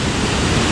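Rushing water at a force waterfall near Skipton: a loud, continuous broadband roar filling the whole moment, steady and close, with no voices.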